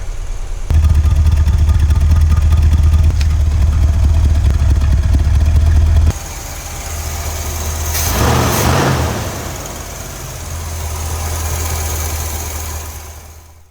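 A Corvette C3 engine running close up with a deep steady idle, then dropping to a softer rumble that swells and settles as the revs change.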